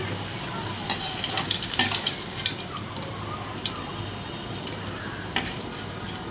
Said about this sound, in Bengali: আলুগুলো আমার ভাজা হয়ে গেলে তুলে নিচ্ছি।